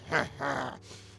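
A voice imitates a ravenous creature's growl: two short, low, rough rumbles followed by a breathy exhale, close and fairly quiet.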